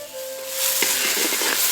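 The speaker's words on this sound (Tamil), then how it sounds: "இப்ப 2 தக்காளிய துண்டு துண்டா நறுக்கி சேர்த்துக்கலாம்." Steady oily sizzle of chopped tomatoes frying in a pan, with soft stirring scrapes and crackles, close and moderately loud, no voices.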